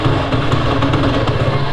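A TVS Apache RTR 180 motorcycle with a suspected choked carburetor runs close by, its engine holding a steady droning note that barely climbs as the throttle is opened.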